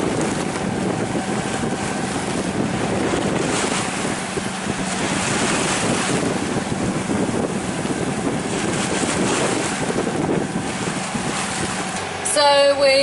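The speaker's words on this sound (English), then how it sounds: "at the moment we are motoring, as you can hear" A sailboat motors under engine power at sea after leaving Grenada, with a steady low drone blended into continuous rushing wind and wave wash, loud and unbroken.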